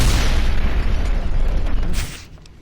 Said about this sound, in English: It's just gonna be a compilation of explosions until I get it right